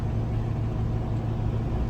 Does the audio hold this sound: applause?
no